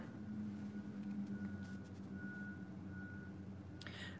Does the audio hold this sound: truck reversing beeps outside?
yes